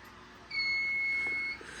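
A fire alarm panel's trouble buzzer, a steady electronic tone, sounds for about a second, fairly quiet against a faint background hum, then cuts off.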